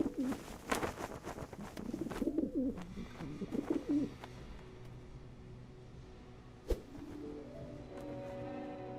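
A black bird calls in a Hindi cartoon, a series of soft pigeon-like coos in the first few seconds, followed by quieter tones and a lone sharp click over a faint musical hum.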